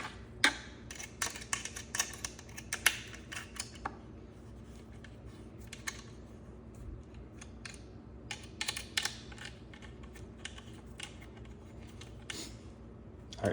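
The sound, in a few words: button head screws driven in with an Allen key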